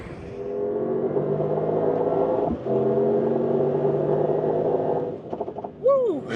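Mercedes-AMG GT 63 Pro engine drones steadily up close, a brief dip at mid-run as it shifts, then the note fades toward the end before a short burst of talk.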